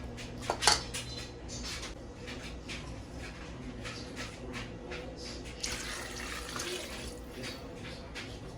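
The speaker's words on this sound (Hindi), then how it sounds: "अब हम इसमें पानी डालेंगे 4 कप और 1 आधा कप" Water is poured into a pot of Kabuli pulao being cooked in a kitchen, a continuous close splashing and trickling with a few clinks of the pot near the start, no talk.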